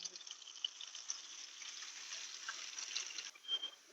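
Chopped onions frying in hot tempering oil, lightly salted: a faint, continuous bright sizzle, steady for a few seconds with a small crackling flare near the end.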